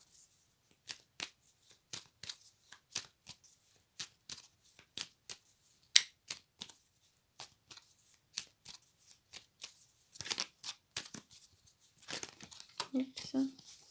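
Oracle cards for an astrological reading are shuffled by hand in repeated quick riffling bursts, crisp papery flutters spaced through the passage and growing busier toward the end, close and fairly quiet, with no talking.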